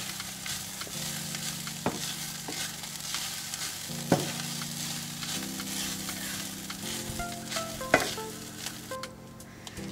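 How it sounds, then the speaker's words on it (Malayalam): Grated coconut roasting in a pan until golden for Kannur-style chicken upperi, a continuous soft sizzle with intermittent scraping stirs and occasional light clinks of utensil on metal, no voices. "എന്നിട്ട് നന്നായിട്ടൊന്ന് റോസ്റ്റ് ചെയ്യണം. തേങ്ങ ഗോൾഡൻ കളർ ആവുന്നത് വരെ നമുക്കിതൊന്ന് വഴറ്റിയെടുക്കണം"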